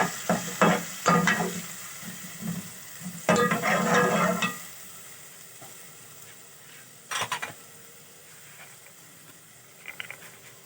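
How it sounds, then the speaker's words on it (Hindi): Yogurt is being stirred briskly into a shahi qorma frying in a pot, with bursts of scraping and sizzling in quick spurts, then quieter pauses and a few faint clinks. "दही अब जल्दी इसको जल्दी जल्दी चलाएंगे ताकि इसका दाना ना"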